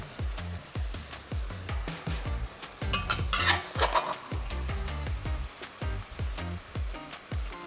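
Japchae noodles stir-fried in a wok over high heat, with a steady rhythm of close scraping and tossing strokes over a continuous sizzle that swells briefly in the middle.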